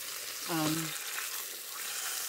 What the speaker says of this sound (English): I'm still here browning my meat.